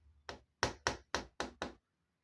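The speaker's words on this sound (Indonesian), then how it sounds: "Kemudian ia mengetuk pintu rumah pamannya." Six firm knocks on a wooden house door, a single rap followed by a steady run of five, close and crisp with silence after.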